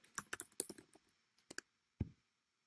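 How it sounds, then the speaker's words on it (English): Quick bursts of close, quiet computer keyboard typing, a handful of clicky keystrokes followed by a single firmer key press, with no talking. "So I am going to type in fitness here."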